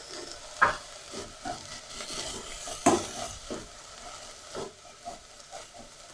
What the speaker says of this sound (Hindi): 1 मिनट के लिए इसको भी फ्राई करेंगे ताकि हल्की सी सॉफ्ट हो जाए